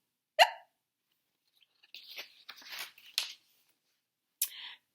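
A voice imitates hiccups in a children's story, with one sharp, close hiccup-like yelp at the start, a cluster of quick breathy sounds in the middle and another short yelp near the end.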